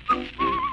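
Someone whistles a short, bright melodic phrase on an old children's 78 rpm record from about 1950, two brief notes sliding into a wavering sustained tone, close and clear.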